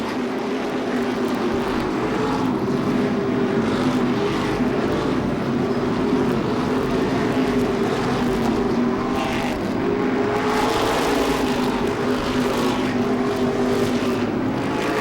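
Modified race cars, including a number 60 modified, roar around Seekonk Speedway under green, a loud continuous engine drone with layered passing cars rising and falling, no talk.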